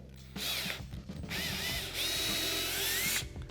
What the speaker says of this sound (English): So we're going to drill a pilot hole.